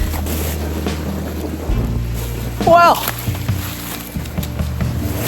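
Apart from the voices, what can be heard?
wind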